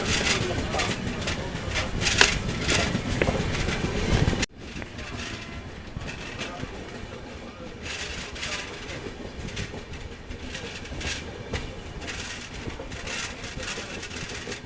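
A moving train running on rails after leaving a station, a continuous rumble with rhythmic clicks, louder at first and then a steadier, quieter interior drone with people talking.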